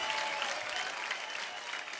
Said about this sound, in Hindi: बहुत बढ़िया, बहुत जोरदार हो जाए तालियां एक बार यार।